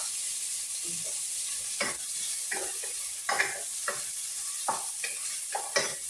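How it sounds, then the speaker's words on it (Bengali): Onion frying in hot oil, a soft hiss under intermittent scraping strokes of a spatula against the pan, several distinct stirs spaced through the clip. "পেঁয়াজটাকে ভালো করে ভাজি করে নিতে হবে"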